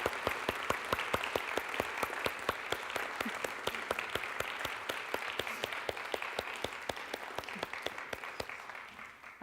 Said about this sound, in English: Let us together give a huge round of applause for everyone who has served and everyone who is about to serve.